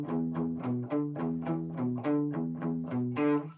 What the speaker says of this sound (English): the guitar part is going to sound like this.